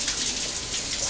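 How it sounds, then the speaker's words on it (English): A tap runs in a home kitchen while hands are washed, giving a brief, close, steady gush of splashing water. "Hands washed here."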